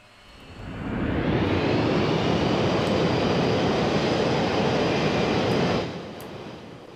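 Airplane engine in Garry's Mod, a broad steady roar that swells in over the first second, holds loud and even, then drops back near the end.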